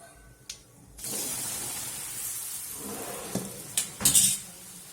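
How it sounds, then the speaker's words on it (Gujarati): Muthiya dropped into hot oil already tempered with mustard seeds, cumin and hing: a sudden loud sizzle bursts in and keeps frying steadily, with a few sharp utensil clinks and scrapes near the end. "તો હવે આપણે મુઠિયા વઘારી દેશું"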